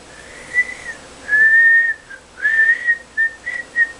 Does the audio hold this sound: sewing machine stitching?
no